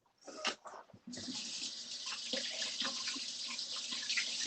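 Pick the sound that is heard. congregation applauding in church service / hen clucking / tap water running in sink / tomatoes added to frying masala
tap water running in sink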